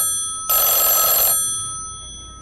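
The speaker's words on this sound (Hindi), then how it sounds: "मोबाइल की घंटी" A mobile phone rings with a single bright electronic trill burst of just under a second, close and clear against near silence, leaving a faint lingering tone afterward.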